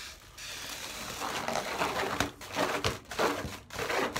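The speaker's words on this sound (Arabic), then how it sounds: "فجبت كيس فاضي وهنفخه واقفله جامد" An empty plastic bag is crinkled and crumpled close up while being puffed full of air and sealed tight, with repeated rustling bursts and a few sharper crackles and no talking.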